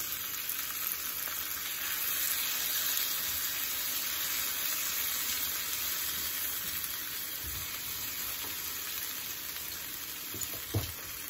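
Chopped tomato frying in a pan with browned onion, a steady, even sizzle lasting throughout, with a couple of soft knocks near the end.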